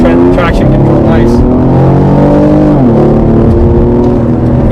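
Infiniti Q50 with a tuned transmission under full throttle: a loud, continuous engine roar climbing steadily through the revs, with a brief shift dip near three seconds, and a voice talking over it.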